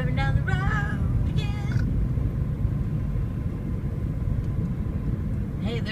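A cat meows several times near the start inside a moving car, its plaintive cries riding over a steady low engine and road rumble that continues alone afterward.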